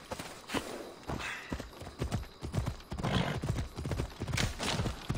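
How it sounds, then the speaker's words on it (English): Horse hooves clip-clop on the ground in Assassin's Creed Odyssey, an irregular run of quick hoofbeats close by, with a neigh and a snort mixed in. "Will you get on the fucking horse?"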